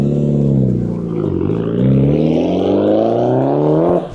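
A Toyota Crown's engine revs loudly through a modified exhaust, a strong droning rumble that climbs steadily in pitch for about four seconds before cutting off abruptly at the end.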